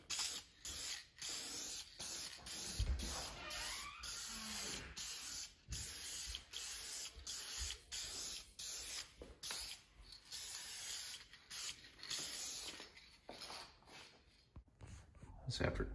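VHT Nite Shades aerosol tint spray paint hisses from the can in short bursts, close by, while coating a Duramax third brake light, with a person talking faintly over it.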